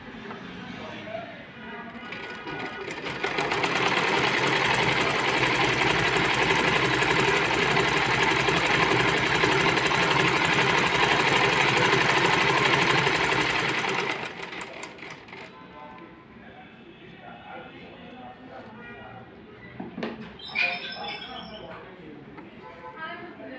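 A sewing machine stitches a blouse in one long, loud, steady run of about ten seconds, with quieter handling and someone talking before and after.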